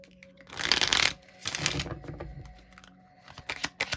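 Tarot cards being shuffled in two quick riffling bursts, followed by lighter taps and flicks, close and crisp without talk.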